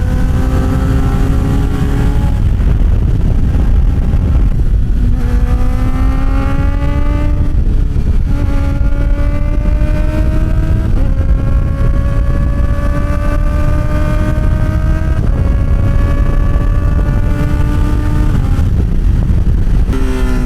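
A Kawasaki ZX-4RR motorcycle with an aftermarket exhaust revs loudly and close by. The engine climbs in pitch through repeated rising sweeps with brief drops between them, like shifts, and no one speaks.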